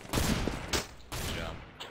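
Nova shotgun blasts in CS:GO on the Inferno map: three sharp, loud shots spaced a fraction of a second apart, each with a short decaying tail.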